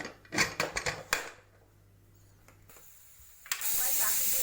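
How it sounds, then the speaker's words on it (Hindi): A pressure cooker holding chicken curry lets out a loud, steady hiss of escaping steam toward the end. Scattered clatter and a brief voice come before it. "हमारी 4 सीटी हो चुकी है"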